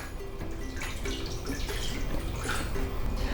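Water poured into a pot holding cracked eggs for cooking, a continuous close splashing and trickling with small drip-like accents, moderately loud and steady throughout.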